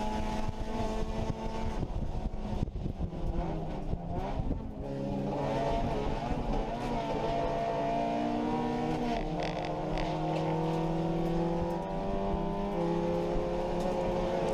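A race car engine drones loud and continuous during a race, its pitch dropping sharply as the driver lifts off the throttle, then climbing and holding through the gears again.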